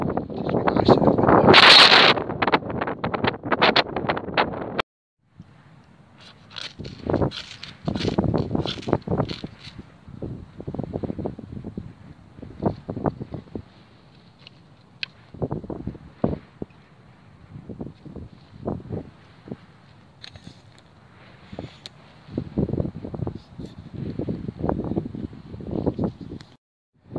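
Wind gusts over the microphone on a winter coast beside a fat-wood campfire. The blustery rumbling is loud and near, with some rustling and brief movement noises between quieter lulls.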